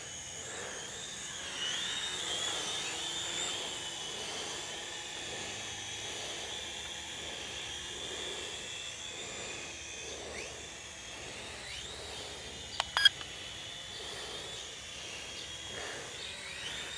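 A cheap $39 TSRC toy drone flying, its small propellers giving a thin, steady high-pitched whine and hiss at moderate distance, with a couple of brief sharp clicks partway through and no talking.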